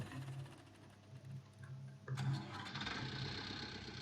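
A tractor engine in Farming Simulator 19 cranks and catches about halfway through, rising from a quiet hum into a steady, close mid-pitched running rumble.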